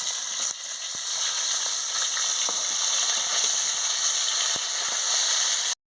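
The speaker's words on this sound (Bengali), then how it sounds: "এবারে ভাজা হয়ে গেছে, আমি তুলে নেব" Tilapia pieces fry in hot oil in a pan, making a loud, steady, close sizzle with faint clicks throughout before cutting off abruptly near the end.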